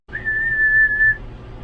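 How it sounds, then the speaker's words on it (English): A lifeguard's whistle gives one loud, clear, steady blast lasting about a second, close by and alone. "I just blew the whistle"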